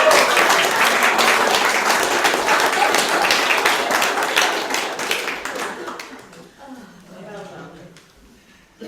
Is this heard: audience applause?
yes